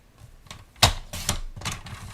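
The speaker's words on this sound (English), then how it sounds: "Actually, we're going to cut again, so it's 11 by 4 1/4." Card paper is trimmed to 11 by 4 1/4 inches on a paper cutter, producing three sharp close slicing chops spaced about half a second apart, with light handling noise between them.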